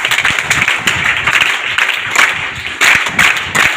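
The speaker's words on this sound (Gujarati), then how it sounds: "આપણે સૌ પ્રથમ એમનું 3 તાળીથી સન્માન કરીએ" Audience clapping at a charity organisation's gathering, a brisk patter of many hands that swells and dips in bursts, fairly close and loud, rather than three distinct claps.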